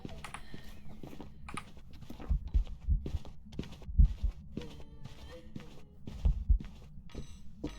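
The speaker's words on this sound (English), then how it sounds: "Every time the heartbeat goes, I die a little bit inside." Heartbeat effect in the horror game Phasmophobia: low, thudding double beats pulsing in clusters across the stretch, fairly loud, mixed with other game sounds and occasional faint voice.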